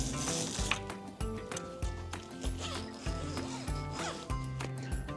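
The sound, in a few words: zippers of a campervan bug net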